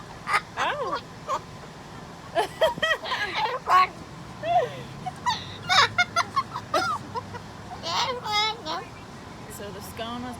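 Pet parrot Coconut squawks and chatters in a busy coffee shop, with a string of sharp, warbling calls and shrill whistles coming close and loud in short bursts, mixed with nearby talking.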